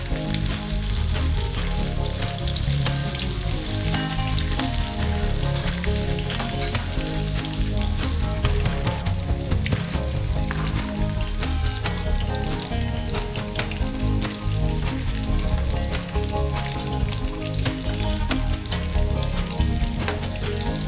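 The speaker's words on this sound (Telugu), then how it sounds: "ఆలు ముక్కలు ఫ్రై చేసుకున్న తర్వాత క్యాలీఫ్లవర్ని కూడా ఫ్రై చేసుకోవాలి." Cauliflower frying in hot oil in a pan for aloo gobi, a loud continuous sizzle and crackle with occasional stirring, steady throughout with no voices.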